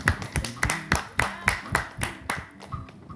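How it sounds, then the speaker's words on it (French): Audience applause at a French-language live show, a run of sharp, fairly loud claps and taps in a steady rhythm, with a little voice mixed in under them. "Applaudissez pour eux d'abord."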